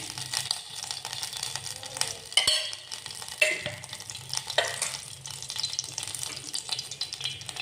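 Dry fruits frying in a spoonful of ghee in a pan for shavige payasa: a close, continuous crackling sizzle with several louder spatula scrapes and clinks, and no one speaking.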